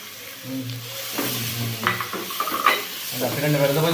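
Turmeric, masala and chili powder sauté in a hot pan for crab biryani, with soft sizzling and repeated scraping and stirring of a spoon against the metal, close and clear.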